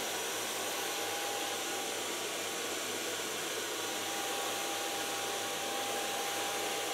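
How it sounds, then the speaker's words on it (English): A blow dryer drying hair while styling with a medium brush roars steadily and close for the whole stretch, an unbroken airy whine with no talking over it. "Take a medium brush and a blow dryer, of course."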